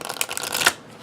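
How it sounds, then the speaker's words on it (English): Thin-cardstock tarot-style reading cards riffled in a quick side shuffle, a brief close flutter of cards that ends in a sharp snap. "you can do either the corner shuffle that some people do with larger cards, or you can even do the side shuffle"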